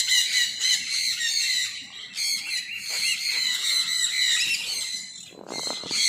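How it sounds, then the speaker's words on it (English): Loud, shrill squawking from a flock of conures in a walk-in aviary, overlapping harsh calls in rapid bursts with brief gaps, close by. "At eye level, you can see all the conures here,"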